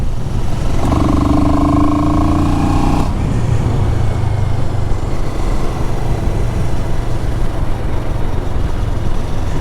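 A CFMoto CLX Heritage motorcycle is ridden on the road, its engine droning steadily under heavy wind rush, with a brief higher revving tone early before settling into a constant cruising hum.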